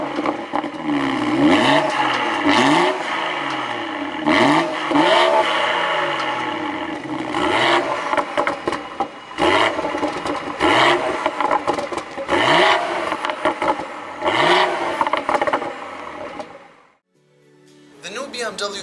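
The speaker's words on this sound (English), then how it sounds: "we're going to start the car up" A 2018 BMW X3 M40i with a turbocharged six-cylinder engine fires up and revs repeatedly, each loud close blip rising and falling in quick succession, then the engine settles near the end.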